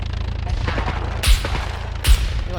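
Two sharp, booming gunshot blasts about a second apart in the video game SCUM cut through a steady background of game noise.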